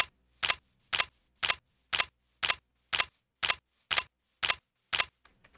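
Evenly spaced sharp pistol shots from a modded gun in Minecraft, about eleven in a steady rapid rhythm roughly two per second, crisp and close with silence between each crack.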